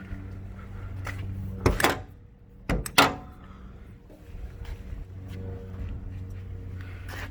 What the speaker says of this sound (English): To turn this on, we're going to open up the engine access door.